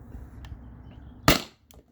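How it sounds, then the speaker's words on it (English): A single sharp, loud pop from a Byrna S2 CO2 launcher firing a salt or aluminum round, close by, followed by a faint tail and quiet. "I'll probably get maybe 3 shots, maybe 5 shots more out of the S2"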